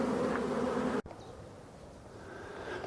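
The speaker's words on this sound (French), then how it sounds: "Il y a un peu d'abeilles." Honey bees buzzing around a hive frame at an evening swarm capture, a loud close droning hum that cuts off abruptly after a second, leaving a fainter, softer buzz behind.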